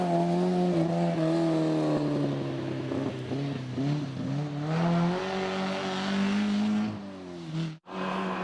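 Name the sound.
Volvo 142 S rally car driving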